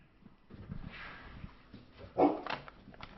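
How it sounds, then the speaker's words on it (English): A dog gives a single short bark partway through, fairly close but not loud, with soft rustling and faint movement around it in a quiet room. "There's a new dog."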